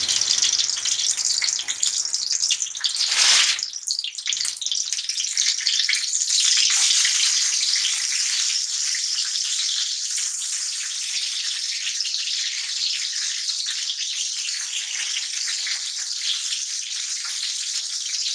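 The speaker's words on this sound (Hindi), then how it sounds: "ये फ्राई करने हैं। तो ये तवे पे मैं रखूंगी" Parathas frying on a hot tawa griddle give a steady, bright sizzle that runs the whole time at close range. A brief louder hiss comes early on, and no one speaks.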